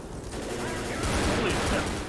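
Rapid gunfire from a Left 4 Dead firefight against a Smoker infected, a dense continuous volley of shots packed close together under a steady roar of game noise, with faint voices mixed in.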